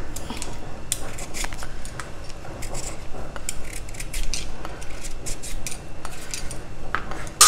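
Vegetables for South Indian rasakalan, including ash gourd, being cut, seeded and peeled: a steady run of small crisp clicks and scrapes from knife or peeler on produce, close and fairly quiet, with no talking.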